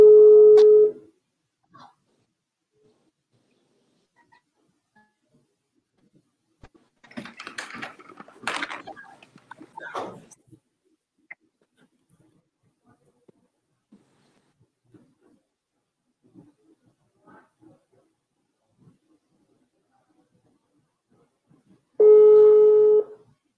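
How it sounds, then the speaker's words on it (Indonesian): A phone call is placed: a loud steady busy tone opens and closes the stretch, with a quiet patch of tapping and dial sounds in between. "inilah aku lagi usaha untuk telepon Rika ya"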